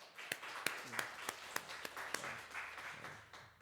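A church congregation at a Sunday service clapping, faint and sparse with distinct individual claps spaced irregularly, amid quiet room murmur and some talk.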